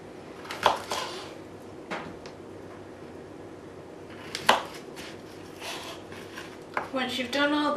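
Knife cutting chorizo into thick slices on a board: a few sharp scattered clacks and taps separated by pauses, with a person talking near the end.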